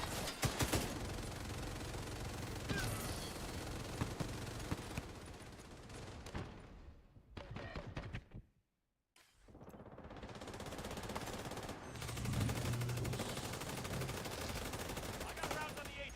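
Continuous automatic gunfire in The Division 2 crackles over dense game noise, dropping out for a moment of near silence before the shooting resumes just as heavily.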